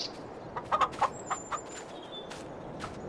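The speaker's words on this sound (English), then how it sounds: "There's the chickens." Several hens cluck in short bursts, close and clear, with a faint whistle-like tone drifting behind them, in a farming simulator video game.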